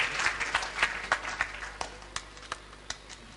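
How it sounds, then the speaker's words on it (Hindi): Audience at a Hindi stage play performance applauds Dr. Rajnish Charan, with clapping that starts fairly full and thins to scattered, separate claps as it fades. "डॉक्टर रजनीश चारण के लिए जोरदार तालियां"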